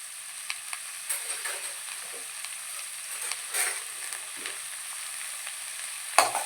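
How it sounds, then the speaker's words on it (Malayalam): Onions sautéing in a pan for biryani, a soft continuous sizzle close by, dotted with faint spatters and a few stirring scrapes, one sharper clink near the end. "സവാള നമുക്ക് കുറച്ചാവുമ്പോൾ ഇതൊന്ന് വാട്ടിയിട്ട് ഇട്ടുണ്ടെങ്കിൽ നല്ല സോഫ്റ്റായിട്ട് കിട്ടും"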